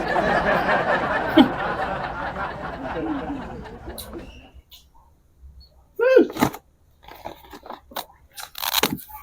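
Someone bites and chews crunchy food close by, with dense crackling for several seconds, then quieter munching as voices and laughter break in.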